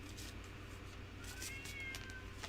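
A male house cat meows from behind a closed bedroom door, a few faint, thin cries over steady low room hum, with no talking.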